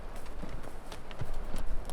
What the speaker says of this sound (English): Third pack horse coming in.